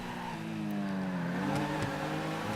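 Race cars in Grand Theft Auto cross a finish line, with engine whines rising and shifting in pitch as the cars pass at moderate volume, overlapping one another with brief sharp accents, no talking.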